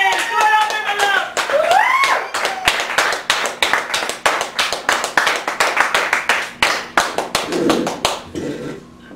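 Crowd at a poetry open mic claps and cheers, a loud voice whooping at first, then fast, sharp rhythmic hand claps that continue steadily and close by, with a few brief voices near the end.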